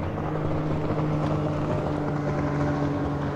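A bass boat's engine drones steadily on Lake Chickamauga with a low hum and rushing water and wind noise, constant and loud throughout.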